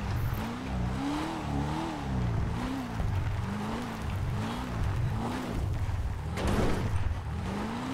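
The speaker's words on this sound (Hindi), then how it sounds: "चारों टायर जोर लगा रहे हैं, दो बार यहाँ लगाई और गियर चेंज" A BMW's engine in GTA 5 strains and revs while climbing the steep slope of Mount Chiliad on all four tyres, pitch rising and dipping with gear changes, loud and close, with a brief scraping burst near the end.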